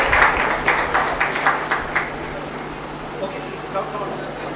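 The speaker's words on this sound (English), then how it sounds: "A big round of applause for Mr." An international conference audience claps for a speaker being welcomed onto the stage, starting with a burst of scattered claps that fades to sparse claps over a low background hum.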